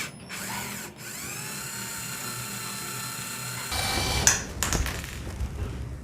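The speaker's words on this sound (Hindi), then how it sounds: "हमें यहाँ पर ये नट खोलना है, तो जस्ट मैं इसको यहाँ पर ऐसे लगाऊंगा और नट खोलना स्टार्ट करता हूँ" A budget cordless drill fitted with a 10 mm socket whirs steadily as it unscrews a nut, the motor running evenly for several seconds before a louder burst of clattering and ratcheting near the end; no talking.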